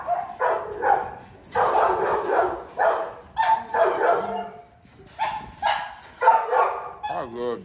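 Several dogs bark and yip repeatedly in a dense, loud cluster close by, with bursts overlapping almost continuously and a brief whimpering whine near the end.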